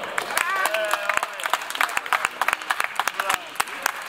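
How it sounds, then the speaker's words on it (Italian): Applause for homeless people at a charity evening show, scattered individual claps, sharp and distinct rather than a dense roar, with voices and cheering tones over them. "L'applauso, fatelo a loro."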